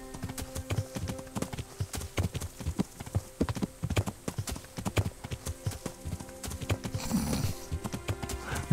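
Horse hooves clatter in a steady galloping rhythm as a rider crosses open country in the medieval video game Kingdom Come: Deliverance, loud and close, with a brief whinny near the end and no talking.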